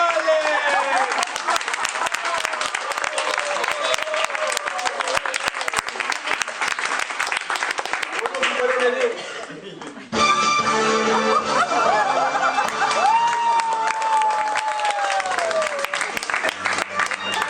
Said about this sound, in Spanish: Un gran aplauso por el formidable, el grande Julio Catedrale